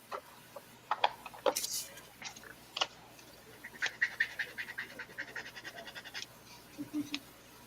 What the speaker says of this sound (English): His dog's getting into something.